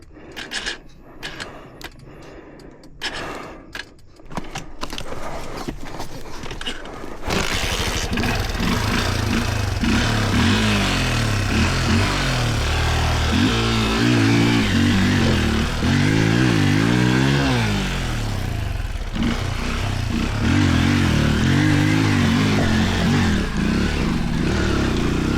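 A trail motorcycle is started after a few sputtering attempts, then idles and revs loudly and steadily for the rest of the stretch, its engine note rising and falling close by.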